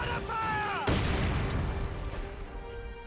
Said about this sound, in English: they have their own little MG up here and it's suppressing me